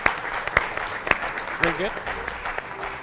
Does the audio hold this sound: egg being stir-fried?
no